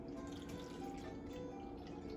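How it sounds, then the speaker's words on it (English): Hot chocolate is poured from a container into molds in a home kitchen, giving a faint, continuous liquid trickle with soft drips. "we're going to pour the hot chocolate into the molds"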